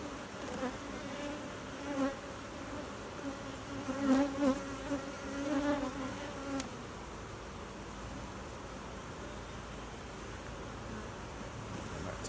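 A colony of honeybees buzzes steadily around a hive frame during early-morning drone-frame work, the drone swelling louder in the first half and then settling into a softer continuous hum.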